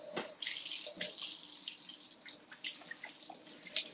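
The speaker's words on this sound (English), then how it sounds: "Let me wash my hands." Hands washed under a running kitchen tap, a close, steady splashing stream with brief shifts as the hands move through the water, with no speech over it.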